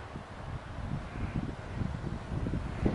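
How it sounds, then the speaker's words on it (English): Steady wind rushing and buffeting outdoors at a campsite in the Boundary Waters (BWCA), low rumbling gusts rising and falling throughout with no voices. "Woo, it's windy."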